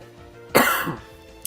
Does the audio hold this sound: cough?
yes